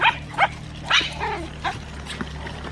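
A small dog yips and barks in short bursts, several sharp calls spread across a couple of seconds, fairly close, with steady background hum and no talking.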